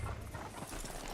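Horse hooves clip-clop in Red Dead Redemption 2, a quick, steady run of thudding steps under a dense ambient bed, with no talking over it.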